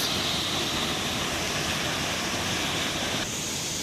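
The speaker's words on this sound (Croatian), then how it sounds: "I evo ga prvi vodopad" A waterfall in a Bali tourist complex roars as a dense, even rush of falling water, loud and close without a break.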